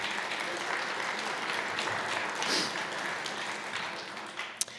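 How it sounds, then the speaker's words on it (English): A crowd at a police department awards ceremony applauds steadily, a dense wash of clapping that holds for several seconds before thinning slightly, with a sharp knock near the end. "give them a round of applause"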